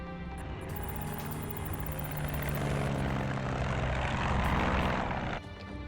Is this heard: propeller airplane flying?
yes